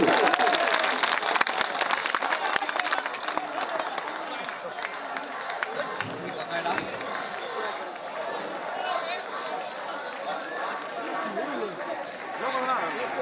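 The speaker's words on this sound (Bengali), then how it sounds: "আমরা সবাই করতালির মাধ্যমে তাদেরকে অভিনন্দিত করতে চাচ্ছি" A large crowd at an outdoor political campaign rally for a sub-district chairman candidate applauds and cheers a motorcycle procession, a long, dense wash of clapping and crowd noise with chatter mixed in, steady and moderately distant.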